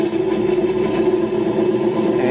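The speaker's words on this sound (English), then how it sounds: "Nice revvy V8 sound" A Sense Hobby ESS-ONE engine simulator plays a synthetic V8 engine note through its speaker, a steady, close, buzzy rumble with slight revving pulses.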